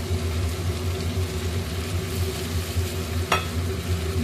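Ground turmeric, chilli, coriander and cumin being sautéed in oil for egg curry, a steady close sizzle and stirring over a low rumbling hum, with one brief sharp scrape near the end.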